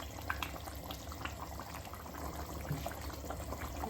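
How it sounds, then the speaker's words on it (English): Milk pours into chicken korma cooking in a pan, a steady liquid splash with a low simmering hiss beneath. "I'm going to add the milk."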